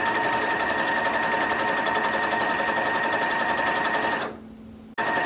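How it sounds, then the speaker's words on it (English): Sewing machine stitching fabric for a baby hat, with a back stitch to lock the stitches: loud, close, steady, rapid mechanical hum that runs continuously, then winds down and stops near the end. "I'm just going to start sewing."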